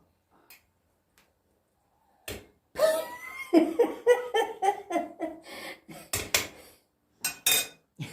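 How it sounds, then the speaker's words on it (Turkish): A lid goes onto a cooking pot of meat and Brussels sprouts stew, with a clatter of metal knocks and scraping clinks, several close rattling hits in quick succession after a quiet start. "Şimdi kapağını kapatacağım."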